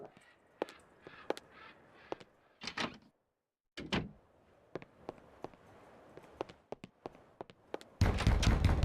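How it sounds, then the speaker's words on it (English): Repeated banging on a door in the Eternal Darkness: Sanity's Requiem video game, a series of sharp, separate knocks at an uneven pace with short quiet gaps, ending in a loud, dense burst of noise. "they are still banging"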